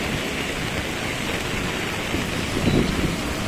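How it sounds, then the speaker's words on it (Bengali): Heavy rain driven by strong wind pours down steadily on a rainy Friday in the Maldives, a dense close hiss with gusts swelling briefly louder near the end. "বৃষ্টি তো বৃষ্টি না, আমার সাথে প্রচুর বাতাস।"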